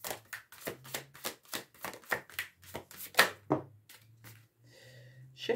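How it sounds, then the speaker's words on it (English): Repeated riffling bursts of tarot cards being shuffled, quick and close, in several rapid rounds with brief pauses between. "These are hard to shuffle today."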